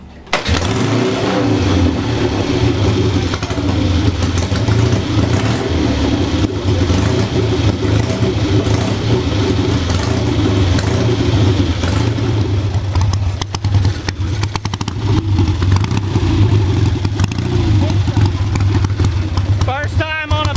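A 1952 Triumph chopper motorcycle starts up, then revs repeatedly with loud, close engine roars that rise and fall. Several people talk and cheer over the engine throughout.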